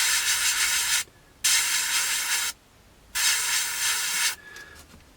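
Three separate bursts of close airbrush hiss, split by short quiet gaps, as undersurface grey paint goes onto the underside of a Magic Factory 1/48 A-4M Skyhawk model aircraft, with no talking.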